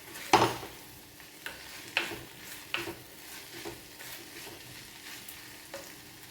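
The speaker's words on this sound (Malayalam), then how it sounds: "ഇതിലേക്ക് ഞാനൊരു 3 പച്ചമുളക് 2ആയി പിളർന്ന് വെച്ചത് ഇതിലേക്കിട്ട് ഒന്ന് വഴറ്റാം" Split green chillies and curry leaves sauté with onions in a pan for egg roast: a faint sizzle with a sharp initial crackle and scattered stirring scrapes.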